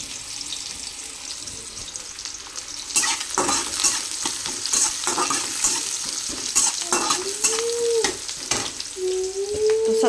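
Onion frying in a pan sizzles steadily while a spoon scrapes and stirs it in repeated bursts, close and fairly loud, with no one speaking.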